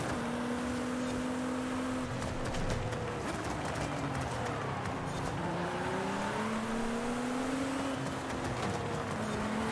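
A Lamborghini revving and driving in a racing video game, its engine note rising and falling in pitch through gear changes, steady and prominent over a constant rushing background.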